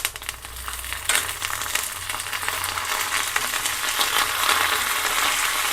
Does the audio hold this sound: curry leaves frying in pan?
yes